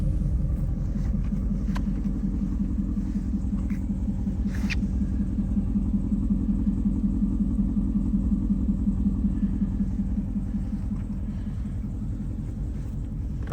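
A Ford Mustang GT with a 5.0 engine and aftermarket exhaust idles steadily with a deep, loud low rumble throughout, close by, with no talking.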